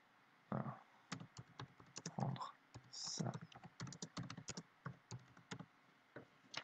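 Soft, irregular clicks of typing on a computer keyboard come in quick bursts and short pauses, close and fairly quiet, with a few faint breathy sounds mixed in.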